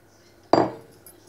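Vegetables drop into a pot of creamy chicken sauce with a single sharp clatter, then a short fading rattle, heard alone against a quiet kitchen.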